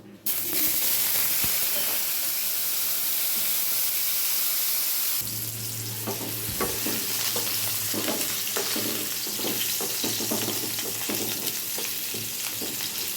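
Soaked potatoes dropped into hot oil in a frying pan: a loud, constant sizzle fills the pan, then shifts to a busier crackle with scattered stirring scrapes and clicks close by.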